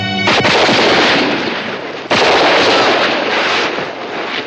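Revolver gunshots in a western gunfight, two loud booming blasts about two seconds apart, each followed by a long rolling echo that fills the space between.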